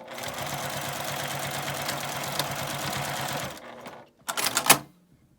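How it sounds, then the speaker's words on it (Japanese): A sewing machine backstitches the seam of an eco fur tote bag with a quick, even mechanical chatter for a few seconds. It then stops, and a few sharp clicks and taps follow. "印のところまで縫って返し縫いをします。"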